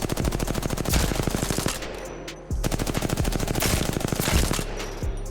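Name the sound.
gunfire with recoil in video game Apex Legends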